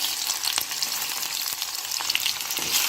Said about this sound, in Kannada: ಒಗ್ಗರಣೆ ಆಗ್ತಾ ಇದೆ